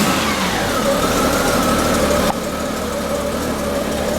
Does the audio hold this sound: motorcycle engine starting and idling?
yes